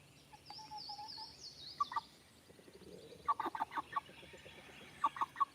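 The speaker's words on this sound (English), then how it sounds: "this is a rooster, I think" A white rooster with wattles gives short, soft clucks in several bursts, with a faint higher call early on, heard close and fairly quiet in a calm outdoor setting.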